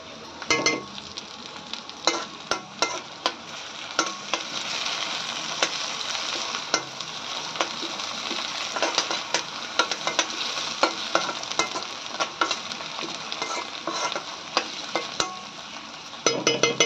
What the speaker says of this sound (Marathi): आता यावर आपण ही मिरचीचं वाटण टाकून घेऊया आणि त्याला व्यवस्थित हलवून घेऊया